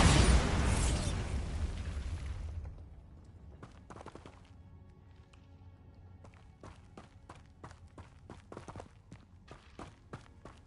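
A Bombarda spell explosion in the video game Hogwarts Legacy opens with a loud, broad blast that rumbles for about two seconds, then falls away into quieter scattered pops and clicking impacts.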